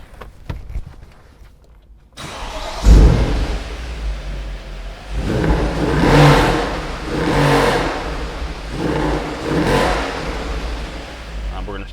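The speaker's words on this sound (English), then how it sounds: "This car's warmed up, so I'm going to hop in it, let you hear the exhaust" A 2009 Mercedes-Benz SL63 AMG exhaust revs up close after some rustling and a door sound, with several rising and falling engine blips in a repeating rhythm.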